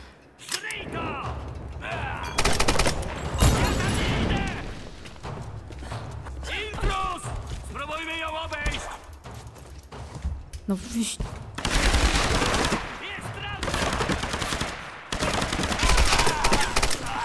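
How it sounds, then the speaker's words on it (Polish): Gunfire in the Tomb Raider video game, bursts of shots scattered through the scene, mixed with game sounds while someone talks over it in Polish. "Strzałem w głowę jednym pięknym go załatwiłem."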